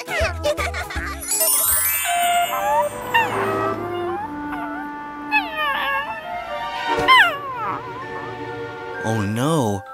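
Cartoon kitten meowing after its injured leg is bandaged, several short cries and mews over a busy bed of music and voices, with people talking throughout.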